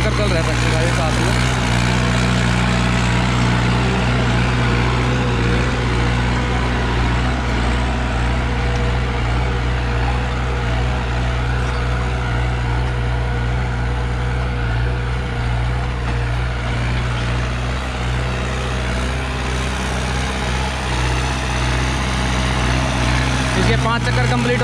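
A New Holland 5630 4WD tractor runs continuously, its diesel engine giving a steady low, rumbling drone close by for the whole stretch.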